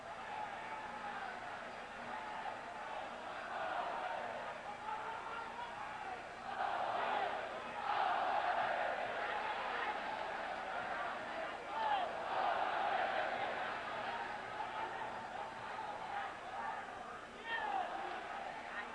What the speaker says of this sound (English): The crowd has really gotten into this bout now. It's almost deafening in this stadium.